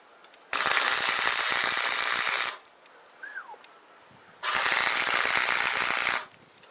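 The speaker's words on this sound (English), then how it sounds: "Now let's lay a few tack welds." Tack welds laid on a steel trailcam lockbox, two loud crackling buzzing bursts of about two seconds each separated by a quiet pause with a faint brief squeak.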